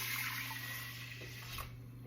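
Water poured into a pot of rice, a steady broadband rush with a constant low hum beneath, continuous and fairly close for about two seconds.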